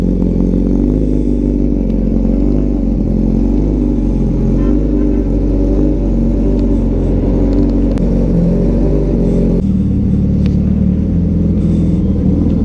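Suzuki Hayabusa motorcycle engine on a cold start, idling loud and close with a steady, throbbing low rumble that drops to a lower pitch near the end.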